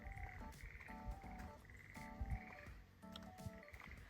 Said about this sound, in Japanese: カエルいるんでしょ